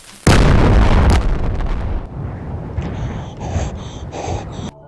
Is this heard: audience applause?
no